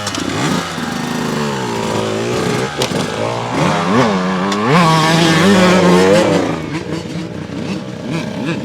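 Beta 125-200cc race-spec dirt bike fitted with a prototype VFORCE reed valve, its two-stroke engine revving hard and climbing up and down through the gears, loud and close, with a brief voice.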